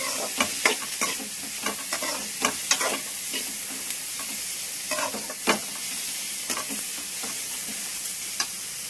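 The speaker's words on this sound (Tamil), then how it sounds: "கொஞ்சம் வெங்காயம் கொஞ்சம் தக்காளி மட்டும் இதிலே போட்டு வதக்கிட்டு இதை அரைச்சிடணும்" Onion and tomato fry in a pan with a continuous soft sizzle, punctuated by repeated sharp scrapes and clacks of a spatula stirring, close and clear with no voices.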